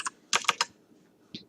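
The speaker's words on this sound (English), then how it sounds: "I'm going to go ahead and type in the information so that you can see what it looks like to have the information typed in" Fingers tap a computer keyboard in quick irregular bursts, several clattering keystrokes close up, then a pause and one last isolated key press.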